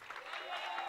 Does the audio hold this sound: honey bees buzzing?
no